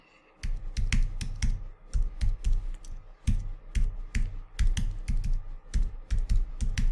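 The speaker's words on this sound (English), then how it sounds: "So let me go ahead and type that in." Keystrokes on a computer keyboard as a password is entered during a vSphere/VCSA login, a steady run of close, crisp clicks in quick bursts with brief pauses, no talking.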